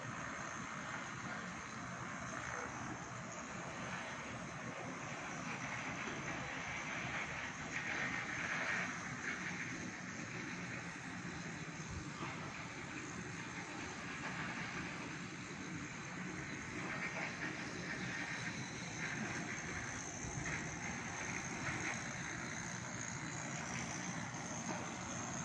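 A steady, broad engine roar carries on without a break, heard from the veranda of a ship at sea as a speedboat passes, with wind and rumble underneath.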